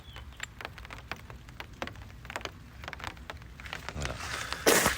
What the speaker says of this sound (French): on entend les gouttes sur le parapluie